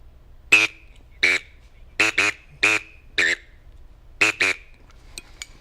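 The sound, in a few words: gadwall duck call blown to imitate duck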